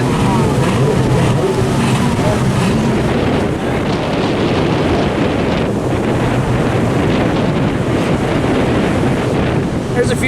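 Strong, steady wind buffets the microphone over the roar of heavy surf at a Daytona beach, loud and continuous throughout.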